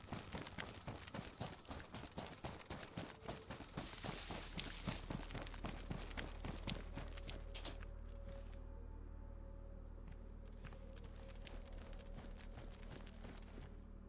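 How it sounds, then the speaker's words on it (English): Footsteps in the video game DayZ, near a prison rooftop: a steady run of rapid, repeated thuds, loud and close for several seconds before easing into a quieter ambient background. "I can hear footsteps."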